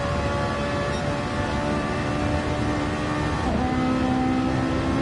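A Porsche race car engine in a racing game drones steadily at high revs with a constant mechanical whine, and the pitch dips briefly near the end as the car shifts or slows.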